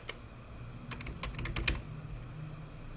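Computer keyboard keys being typed as a passport number is entered into an online Canada visa application form, a short burst of close, quiet clicks in the middle with a faint steady room hum around it.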